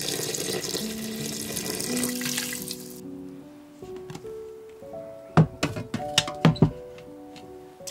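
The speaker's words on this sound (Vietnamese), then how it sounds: "Sau đó thì mình cho vào 350ml nước dừa." Coconut water pours into a pot with a steady liquid splash for the first few seconds, then a few clear clanks and knocks of kitchenware follow in a quieter room.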